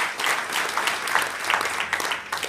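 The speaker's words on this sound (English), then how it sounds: "Everyone give Nick a round of applause" Audience applause at an MBA research conference keynote, a dense steady wash of many hands clapping at moderate level throughout, without speech over it.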